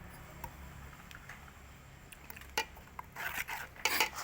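A spoon clinks and scrapes against a bowl while a larb tao mixture is stirred, soft scattered taps building into brisker, louder clatter toward the end, close and with no talking.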